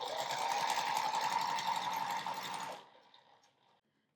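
A sewing machine chain-pieces quilt block pieces, stitching steadily with a fast rhythmic whir for nearly three seconds before the motor stops and the sound fades to near silence.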